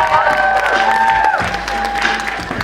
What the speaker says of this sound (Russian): Чуваки, если вы так будете хлопать, я закрою этот фестиваль